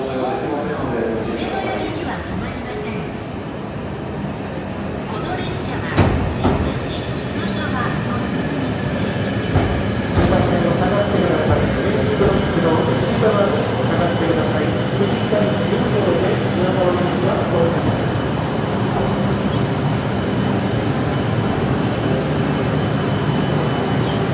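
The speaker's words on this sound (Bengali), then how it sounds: "দেখেন ওই পাশ দিয়ে একটি শিনকানসেন ট্রেন প্রবেশ করছে।" A Shinkansen bullet train pulls into JR Tokyo Station with a continuous rumble and rail noise that builds and holds inside a busy platform hall, with occasional clanks.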